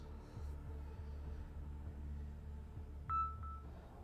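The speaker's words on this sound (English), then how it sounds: "That was my phone." A phone gives a short electronic notification beep, two quick tones close together near the end, cutting above a steady low rumble of game sound.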